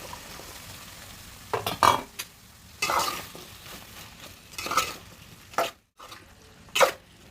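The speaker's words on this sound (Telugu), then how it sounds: "ముందుగా కట్ చేసి పెట్టుకున్న బీరకాయ ముక్కలు వేస్తున్నాను." Chopped ridge gourd pieces drop into a pan of soaked chana dal for a homemade curry, producing several separate bursts of sizzling and scraping with quieter gaps between them.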